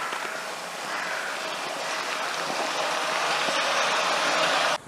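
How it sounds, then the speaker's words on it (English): Horfield Brook running beneath a metal manhole cover in Bristol, a steady broadband rushing of water that holds at an even level for several seconds before stopping abruptly. "you can hear the sound of running water. And this would be the Horfield Brook beneath this metal manhole cover"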